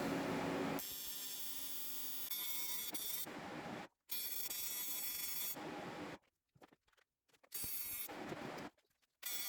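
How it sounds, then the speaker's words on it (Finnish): Welder humming and buzzing while welding an aluminium flywheel for a BMW E46 drift build, loud sustained bursts that stop and start with short silent gaps between them. "tää on ensimmäinen kerta, kun mä hitsaan alumiinia"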